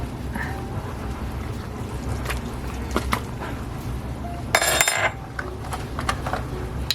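Pot roast from a 1955 recipe being flipped in a cooking pot, with scattered utensil clinks and a brief louder metal scrape against steady simmering noise.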